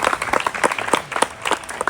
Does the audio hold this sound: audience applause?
yes